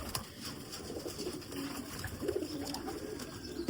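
Soft coos of fancy pigeons repeat in a low murmur against a steady background of bird chatter and ambient noise, with no voices.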